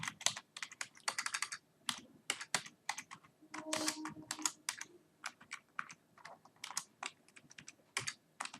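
Typing on a computer keyboard, rapid irregular clicks and taps in quick bursts with short pauses, close and clear, alone without any talk.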